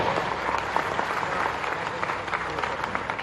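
An indoor audience at a cyber awareness campaign launch at Ravindra Bhavan in Bhopal breaks into sustained, dense applause for the Madhya Pradesh Chief Minister, the clapping steady and loud throughout.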